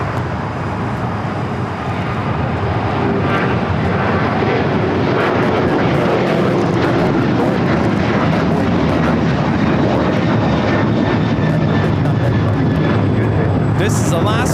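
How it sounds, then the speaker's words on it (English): Alaska Airlines Boeing 737-800 in special Tiana's Bayou Adventure livery taking off at LAX, a loud, sustained jet-engine roar that holds steady throughout, with people talking faintly beneath it. "This is Alaska Airlines Flight 6 taking off to Washington Reagan National on the 737-800 Tiana's Bayou Adventure livery."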